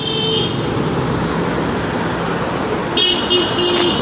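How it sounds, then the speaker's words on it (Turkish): Steady road traffic rumble in Patong with a car horn tooting a few times near the end, busy and fairly loud. "Buradaki korna seslerinin sebebi de Buda'yı selamlıyorlar."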